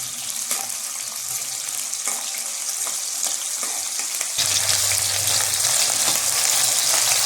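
Whole shallots sautéing in oil for a mixed vegetable curry, a steady bright sizzle with faint stirring taps that grows a little louder and fuller partway through, with no voices.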